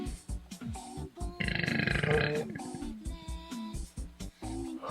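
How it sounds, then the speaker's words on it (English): A single drawn-out burp rises mid-clip with a buzzing, rattly texture, loud and close, set between short bursts of conversation. "Burp."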